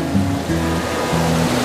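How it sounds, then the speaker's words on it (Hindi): The fast-flowing Ganges at Har Ki Pauri in Haridwar gives a brief, loud, continuous rushing roar of water, with no voices over it. "तो ये गंगा नदी की जो बहाव है कितना है तेज"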